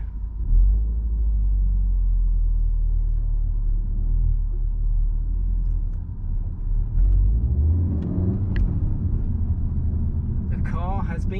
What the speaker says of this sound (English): let me stick it in race mode and find my way out of here